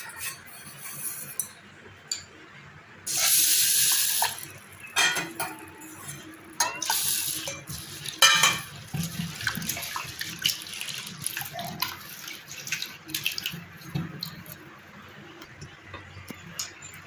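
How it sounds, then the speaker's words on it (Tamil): Split moong dal is swished and rinsed in water in a kitchen vessel, with splashing, sloshing and intermittent clinks of the pot, loud in bursts and quieter between. "ஃபஸ்ட்டு இந்த பாசிப்பருப்பு கழுவிக்கலாம்."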